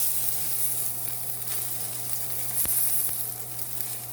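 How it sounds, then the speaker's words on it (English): A soft, steady hiss of a New York steak searing fat cap down in a hot pan, with a low hum underneath and a single faint tap. "You hear that sear?"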